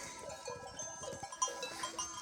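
Sheep on a village farm bleat in a few short, wavering calls. The calls sound fairly distant and faint over a soft background.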